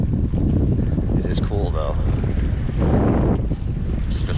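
Strong wind buffeting a microphone on a bridge during a bikepacking ride from Pittsburgh to DC, a steady loud rumbling roar throughout, with a brief spoken remark partway through.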